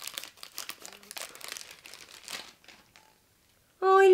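A taped cardboard package holding a figurine is opened. Crinkling and scraping sounds come up close for a few seconds, then a short pause, and the clip ends on a brief loud burst.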